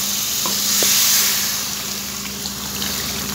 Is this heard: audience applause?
no